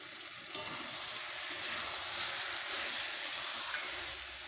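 Bottle gourd sautéing in a pan for a Bengali lau ghonto, a steady soft sizzle with faint stirring scrapes and one sharp clink near the start, close and continuous with no voices.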